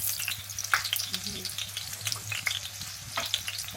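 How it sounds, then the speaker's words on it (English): Plantain slices fry in hot oil in a pan with a dense, continuous sizzle and crackle, occasional utensil scrapes as the pieces are turned, close and steady. "now we are gonna put the plantain in"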